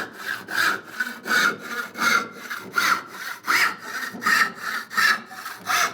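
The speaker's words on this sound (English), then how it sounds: "So when I push with the saw, I get a completely different feeling." A hand saw cuts through wood in a steady push-and-pull rhythm, each rasping stroke close and clear, about a dozen strokes repeating evenly with no talk.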